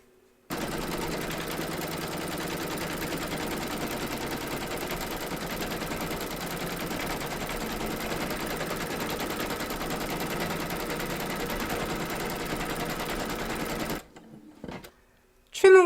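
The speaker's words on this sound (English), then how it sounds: "Pop your hoop into your machine and stitch round number 2 to secure it." An embroidery sewing machine stitches an appliqué outline on a hoop, a fast, steady mechanical buzz of needle strikes running continuously for many seconds before stopping abruptly, followed by a few faint clicks.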